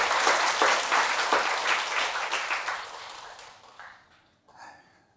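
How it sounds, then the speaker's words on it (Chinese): An audience at a meditation lecture applauds with dense, steady clapping that gradually thins out and fades, followed by a few scattered last claps. "你们这个鼓掌太盲目了啊！"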